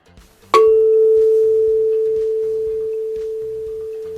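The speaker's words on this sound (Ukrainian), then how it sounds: "Камертон це також джерело звуку." A tuning fork is struck once with a sharp attack, then rings as a pure steady tone that slowly fades over several seconds, loud and alone.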